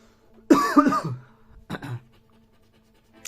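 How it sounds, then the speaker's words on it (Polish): A person coughs hard a few times in a quick cluster, then gives a second shorter cough, close up in a quiet room. "Coś mnie kaszel trzyma, także sorry."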